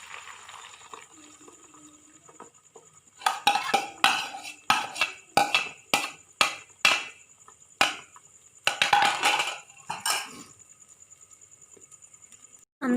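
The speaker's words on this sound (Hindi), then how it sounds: "ऑयल हमारा गर्म हो गया है। अब इसमें हम अंडे डाल लेंगे जो हम लोगों ने मिक्स किए हुए हैं।" Beaten eggs hitting hot oil in a pan, a burst of sharp crackling sizzle with a rapid series of spitting pops for several seconds, then fading to quiet.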